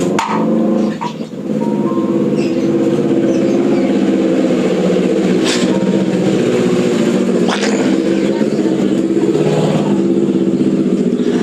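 A motorcycle engine runs close by and loud, a steady mid-pitched drone with a few rising revs, continuing without talk.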